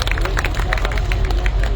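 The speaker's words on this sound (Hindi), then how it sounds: "जोरदार तालियां" Applause from a crowd at an Indian yagna celebration ceremony, steady dense clapping mixed with crowd murmur and babble, loud and sustained throughout.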